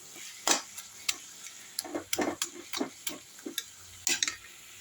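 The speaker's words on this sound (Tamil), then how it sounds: "மிளகாத்தூள் கொஞ்ச நேரம் வதக்குவோம் பச்சை வாசம் போகிற அளவுக்கு நல்லா வதக்குவோம்" Chili powder sautés in a pan for pumpkin thokku, with close, irregular clicks and scrapes of a spoon stirring over a faint sizzle and no talking.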